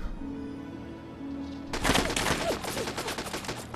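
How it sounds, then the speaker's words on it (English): Rapid SMG fire rattles in Fallout 3, a loud sustained burst of gunshots starting abruptly after a quieter stretch and continuing to the end. "Somebody's got an SMG somewhere."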